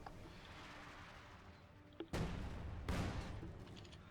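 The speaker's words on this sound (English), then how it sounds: "Nasty shots flying there. Those are 2 PTRS rifles." Two heavy, booming shots from a pair of PTRS anti-tank rifles in Company of Heroes 2, about a second apart, ringing out over a steady rumble of battlefield noise.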